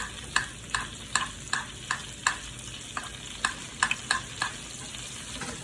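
Steak sizzles in a pan while butter is spooned over it again and again, each basting pass adding a crisp splash about every half second over a soft steady frying hiss.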